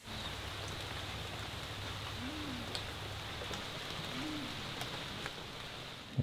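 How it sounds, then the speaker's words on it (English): A large rainforest owl gives two low, soft hoots a couple of seconds apart, distant and faint beneath a steady wash of falling rain. "there's a giant owl that lives in the area here"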